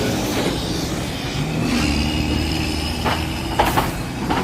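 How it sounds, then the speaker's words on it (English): Chicago Pink Line elevated train, only four cars, speeding past heading west, a loud close rumble of wheels on steel track with clattering joints and brief squeals, heard over city traffic. "This one's going fast. There's the pink line heading west there."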